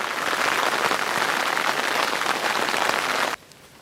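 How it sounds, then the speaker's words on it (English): Hail pelting down outdoors at a campsite, a dense steady broadband patter like heavy rain on a surface that holds loud and even for over three seconds before cutting off abruptly. "I mean, it's hailing almost right now."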